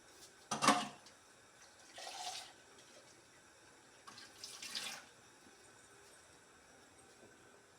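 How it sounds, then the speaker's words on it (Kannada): Water is poured into ground green masala paste for a vegetable curry in three short splashy bursts, the first loudest and the others softer, with quiet gaps between and no talking. "ಸ್ವಲ್ಪ ನೀರು ಕೂಡ ಸೇರಿಸ್ಬೇಕು ಇದಕ್ಕೆ."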